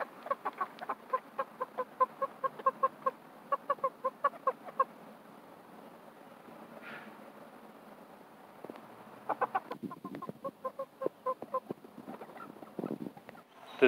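Chickens in a backyard chicken pen cluck in quick, rhythmic bursts of repeated clucks, faint to moderate, with a quieter lull in the middle before the clucking picks up again.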